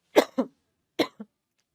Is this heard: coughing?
yes